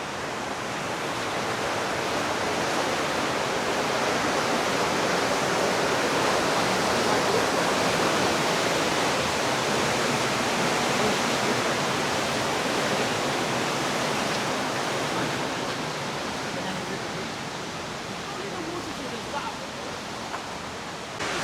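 A steady, broad roar of rushing water, like a waterfall heard from nearby, holds constant throughout with no clear breaks.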